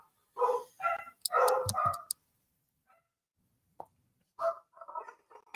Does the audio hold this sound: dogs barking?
yes